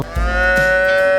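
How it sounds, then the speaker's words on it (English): A cartoon cow in a 3D animal slide game gives one loud, sustained synthetic moo lasting over a second, strong and close, with no talking over it. "Cow."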